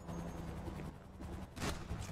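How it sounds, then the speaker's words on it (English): Gunfire in a GTA V FiveM roleplay police scene: a dense, continuous burst of overlapping shots fills the clip, with a louder crack near the end, no talk. "Shots fired."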